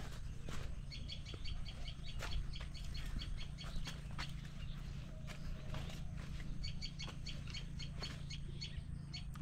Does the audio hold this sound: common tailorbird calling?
yes